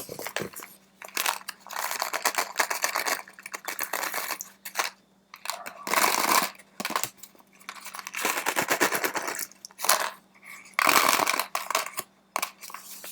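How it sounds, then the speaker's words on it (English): Dry rattling bursts of seeds shaken in paper packets, coming in repeated loud, crinkly spurts with short pauses between. "If you said those are the seed packets, you're right."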